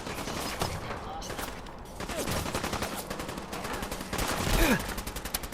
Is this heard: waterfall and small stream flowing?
no